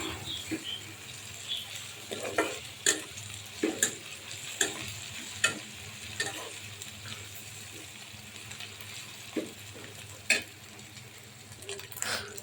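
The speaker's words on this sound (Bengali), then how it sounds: "চিংড়িটা যেন ভালোভাবে ভাজা হয়, শুটকির একটা গন্ধ যেন না থাকে।" Low, steady sizzle of dried shrimp frying in a pan, punctuated by scattered clinks and scrapes of stirring, fairly quiet and close.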